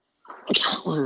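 A single sharp human sneeze erupts from silence, a quick inhale followed by a loud burst and a brief voiced tail, close to the microphone.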